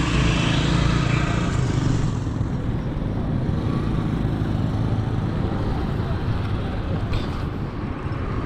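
A parked tractor's engine running, a close, loud, continuous rumbling drone that stays steady throughout, with a brief higher whine near the end.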